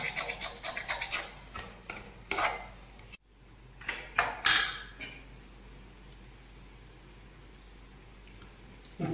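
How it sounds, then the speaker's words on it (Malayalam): Clams roasting in coconut oil in a pan, stirred with a utensil: a run of sharp metallic scrapes and clinks in the first few seconds, then a quieter stretch of faint background sizzle. "ഇത് ഒരു ബ്ലാക്ക് കളർ വരുന്നവരെ നമ്മൾ നന്നായിട്ട് ഇളക്കി കൊടുക്കണം"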